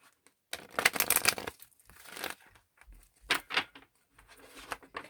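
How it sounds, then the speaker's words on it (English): Oracle cards are shuffled in quick bursts of papery riffling and rustling, close and fairly soft, with short pauses between shuffles. "Give them a quick little shuffle for you."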